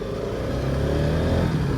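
An RS motorcycle engine revving while being ridden, with a steady loud mechanical drone that rises slightly in pitch toward the end, heard close and alone.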